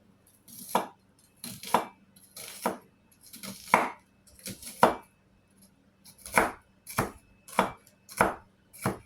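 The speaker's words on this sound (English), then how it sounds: "we just going to chop it up because it don't want to stay in place" A knife chops food on a cutting board while preparing pasta stew, about a dozen crisp, uneven thuds heard close and alone against a quiet background.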